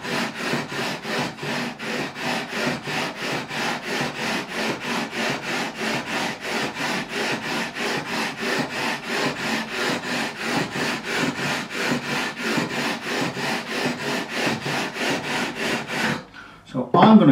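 Stainless steel guitar frets being leveled with a file or abrasive, a steady rhythmic back-and-forth rasping stroke repeated continuously and close up, stopping near the end.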